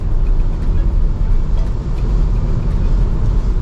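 A Maxus G50 with a manual gearbox cruises at 100 kph, its engine and road noise forming a loud, steady low drone from inside the cabin, without any talking.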